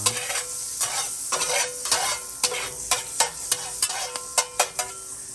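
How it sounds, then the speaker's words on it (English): Butter sizzles in a frying pan while it is stirred around. A utensil scrapes and taps the pan repeatedly over a constant hiss, close and fairly loud. "little bit of butter in the pan. Butter. Stir that around."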